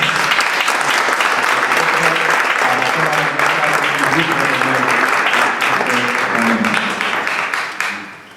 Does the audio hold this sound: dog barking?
no